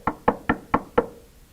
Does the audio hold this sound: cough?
no